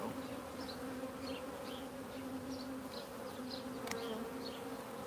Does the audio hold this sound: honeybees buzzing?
yes